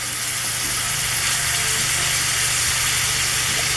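Onions sweat and sizzle in a hot pan while being stirred for homemade chili, a steady, close, dense frying hiss that runs continuously without a break.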